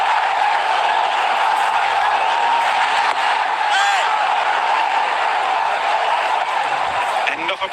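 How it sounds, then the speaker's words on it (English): A cricket stadium crowd at a Bangladesh versus Pakistan match buzzes steadily after two sixes in one over, a dense, constant roar of many voices with a few whistles and whoops rising above it, loud and unbroken throughout. "Let's listen to the crowd."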